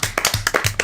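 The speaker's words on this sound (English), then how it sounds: "Everybody wake up and clap your hands." Hands clap in quick, steady succession, about six sharp, close claps in under a second.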